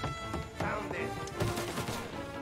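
Gunshots in Mafia Definitive Edition ring out as several sharp cracks at irregular intervals, moderately loud beneath a game music and ambience bed, without talk.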